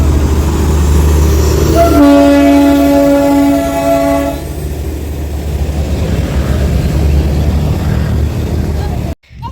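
A train passes beside a busy weekly market, sounding a loud, sustained horn blast for about two seconds before its heavy rolling rumble carries on, with faint crowd noise in the background.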